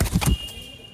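A released pigeon beats its wings in a quick close burst of a few flaps at the start, then the sound fades to near quiet with a faint steady high tone.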